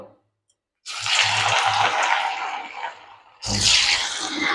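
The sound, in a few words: fish frying in hot oil in a wok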